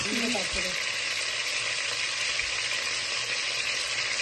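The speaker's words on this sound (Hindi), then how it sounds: "फ्रेंड देखिए ये सारा चिकन मैंने ऑयल में डाल दिया है। इसको मैं 1 से 2 मिनट के लिए पका लूंगी" Chicken frying in oil in a karahi gives a steady, loud, continuous sizzle and crackle throughout, with a brief voice-like sound at the very start.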